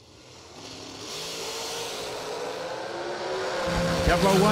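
A top fuel dragster roars down the drag strip, its engine a broad, harsh blast that builds steadily in loudness and pitch over a few seconds.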